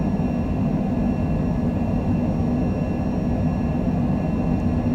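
Airplane engine roaring steadily during a takeoff roll from hot Scottsdale, a dense, continuous loud drone heard from inside the aircraft.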